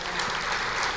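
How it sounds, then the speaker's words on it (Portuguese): A church congregation claps in a dense, steady burst of applause that fills the brief moment. No voice is heard over the clapping. "Você pode aplaudir o Senhor?"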